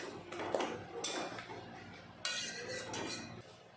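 Pieces of ash gourd are mixed in a pan with mustard, heard as a few quiet clinks and scrapes of a metal spoon against the pan over a soft background.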